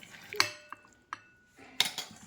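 Fish being mixed with ginger garlic paste in a bowl for a chilli fish tawa fry, a few sharp clinks and scrapes of a utensil against the bowl with quiet gaps between.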